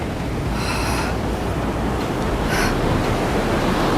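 Broadband ocean surf roars steadily and grows slightly louder over time, with a constant wash of waves and no talking.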